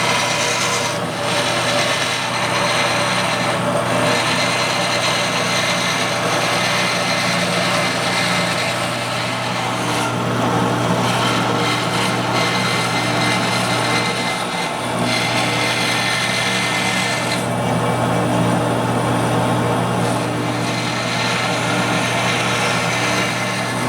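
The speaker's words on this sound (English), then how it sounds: "now I want to try to cut this shape out on the bandsaw" A bandsaw cuts the rough shape of a knife scale, droning continuously and loudly with a steady motor whine and the hiss of the blade through the material, with no voices.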